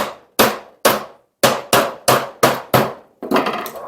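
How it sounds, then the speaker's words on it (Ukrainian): Hammer tapping on a wooden bird feeder, about nine sharp close knocks in an uneven rhythm, each decaying quickly, alone without voices. "молотком підстукав."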